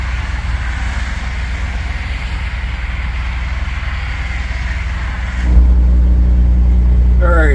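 A truck's reefer refrigeration unit drones loudly and steadily nearby, a broad roaring hum that jumps to a heavier, deeper tone partway through.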